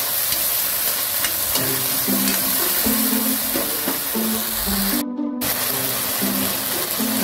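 Sardines fry in a pan with a continuous loud sizzle while a utensil stirs and scrapes through them, a brief pause in the hiss midway before the crackling resumes.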